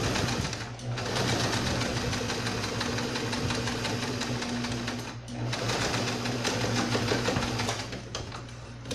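A sewing machine stitches the side seam of a doll's shirt with a fast, steady mechanical whir close by, briefly dipping twice as the run pauses and restarts.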